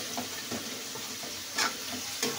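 Ginger sautéing in a pan for an upo and sardine dish, with a steady soft sizzle and a few brief stirring scrapes of a utensil against the pan.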